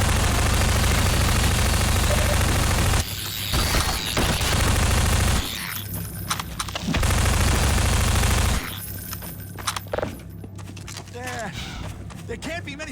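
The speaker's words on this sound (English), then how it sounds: "switch to the machine gun" Machine gun fire in the first-person shooter Half-Life 2: Episode Two, loud rapid automatic bursts that cut in and out in long stretches, with people talking over the shooting and quieter gaps between volleys.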